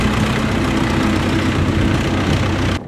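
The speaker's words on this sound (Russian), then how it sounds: "Большие бревна и другой крупногабаритный мусор вывозятся при помощи тракторов и самосвалов." Tractors and dump trucks hauling logs and large debris off a beach drone with a steady, loud, low engine rumble and idle throughout, cutting off abruptly at the end.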